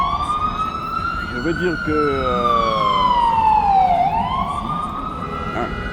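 An ambulance siren passes close behind someone speaking in the street, its wailing tone rising and falling loudly before dipping as it goes by, while his voice continues over it.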